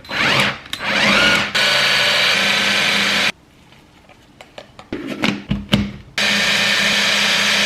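A blender chopping meatball ingredients finely: loud close motor whirs in bursts, a quieter stretch of clatter in the middle, then another steady run of the motor.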